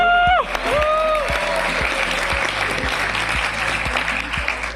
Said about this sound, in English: a huge round of applause to all the nominees